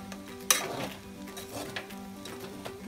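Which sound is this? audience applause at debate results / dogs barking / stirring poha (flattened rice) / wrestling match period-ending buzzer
stirring poha (flattened rice)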